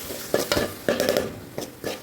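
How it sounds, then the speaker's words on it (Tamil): Small onions and tomatoes with cumin, fennel and mustard seeds are stirred in a pan for fish curry, several close spatula scrapes and knocks in quick bursts over a low sizzle. "இப்போ சின்ன வெங்காயம், தக்காளி எல்லாம் போட்டு வதக்கி"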